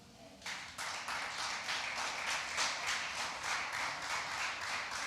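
Church congregation clapping in unison after a sermon prompt, a steady broadband wash of many hands starting abruptly after a brief quiet moment and continuing at even, fairly loud level with slight rhythmic pulsing.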